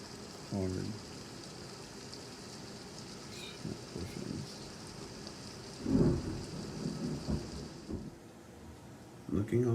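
Heavy rain falls steadily during a stormy spell, a constant wash of hiss with low rumbling swells, while faint voices speak beneath it.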